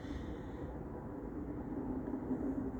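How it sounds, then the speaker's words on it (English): Airplane flying overhead outdoors, a faint, steady low rumbling drone that stays constant and distant throughout. "Thankfully, I think this is just an airplane, because a helicopter would be much louder."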